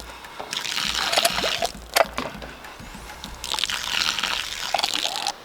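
Mud and water slosh and gurgle inside a hand-drilled well pipe, with wet crunching and trickling bursts, close and moderately loud and alone, with a sharp crack near the middle.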